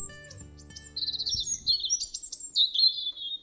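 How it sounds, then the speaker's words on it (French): A small red-throated bird sings alone and close by, a bright, continuous run of high chirps and warbling trills. "aperçut un petit oiseau à la gorge rouge qui virevoltait dans les airs autour d'elle. Il chantait, chantait encore sans s'arrêter."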